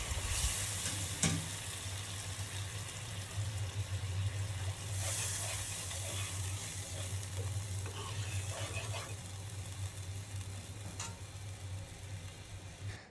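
Fried masala for a duck egg curry sizzles and hisses steadily in a pan after water is poured in, a dense continuous frying noise with a brief clatter or two and no talking.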